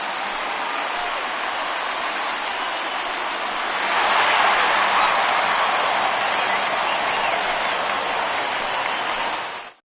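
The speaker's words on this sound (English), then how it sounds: "he receives a nice ovation from this home crowd" Steady applause from a large stadium crowd in the MLB The Show baseball video game, a dense wash of clapping that swells louder midway and holds before cutting off.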